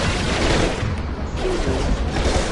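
A concussive shot fired in the sci-fi shooter Mass Effect 2 amid a steady, dense roar of combat noise, with a low boom swelling under constant background gunfire and no clear voices.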